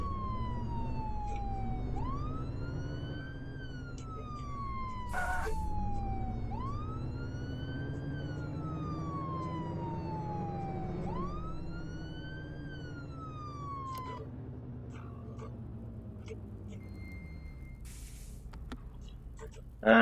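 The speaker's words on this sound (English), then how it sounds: "This is the cycling through your sirens." Police sirens on a vehicle in the video game Flashing Lights cycle through rising wails that repeat about every four or five seconds, with brief blips between them, over a low engine rumble.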